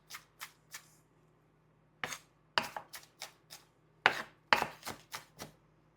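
A knife chops a small onion on a board: three quick taps, a pause, then clusters of sharp, close strikes over a faint background hum.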